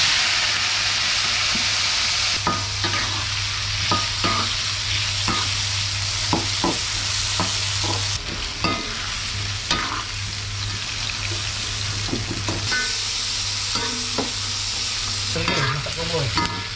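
Shrimp fried with salt and turmeric sizzle and hiss steadily in a hot pan, with scraping and stirring noises from a utensil throughout.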